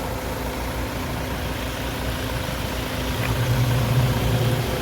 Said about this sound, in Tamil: வண்டி இன்ஜின் நாய்ஸ் எல்லாம் கேளுங்க எப்படி இருக்குன்னு